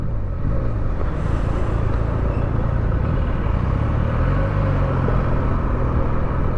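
A Benelli TNT 300 motorcycle on its stock exhaust idles close by, a steady, deep, bassy engine rumble holding an even level throughout.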